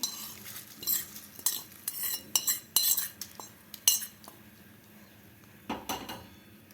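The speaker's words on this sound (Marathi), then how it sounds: "आता यामध्ये आपल्याला तडका घालून घ्यायचा आहे" A spoon clinks and scrapes against a bowl as tadka tempering is mixed into curd rice, a string of light metallic taps and stirs, close and quiet, with a faint sizzle in the pauses.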